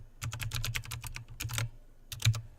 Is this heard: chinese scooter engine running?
no